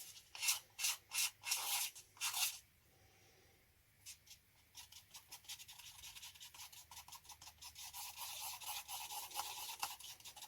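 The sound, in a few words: scraping sides of jesmonite mixing cup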